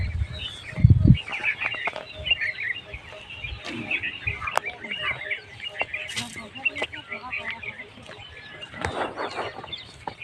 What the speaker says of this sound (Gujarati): અહીંયા છે ઢેલ જો કેટલી ઢેલ છે